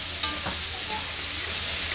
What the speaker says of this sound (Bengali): পেঁয়াজ ক্যাপসিকামটা ভাজা হচ্ছে।